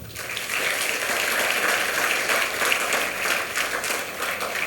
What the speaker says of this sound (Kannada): ನಿಮ್ಮ ಊರಿನ ಹೀರೋಗಳಿಗೆ ಒಂದು ಚಪ್ಪಾಳೆ ಪ್ಲೀಸ್